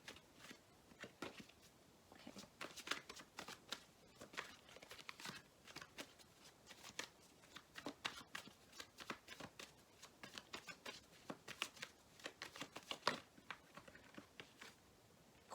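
A deck of tarot cards is shuffled steadily for a long stretch, soft riffling and patting bursts repeating close and quiet, with no talking.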